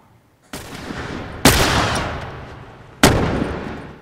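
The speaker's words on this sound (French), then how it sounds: "Alors, ça tire encore." Three sharp, loud gunshot blasts from The Last of Us Remastered, with reverberant decaying tails, spaced unevenly across a few seconds with no talk.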